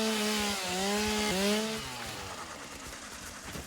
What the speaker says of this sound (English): Sorry for the loud chainsaw.